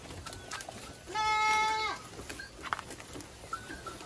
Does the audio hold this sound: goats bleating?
yes